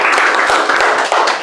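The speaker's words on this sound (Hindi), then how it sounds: "तो एक बार जोरदार तालियां हो जाए सर के लिए" A room of students in a repair-course classroom claps loudly for their teacher, a brief, dense burst of many hands applauding close by.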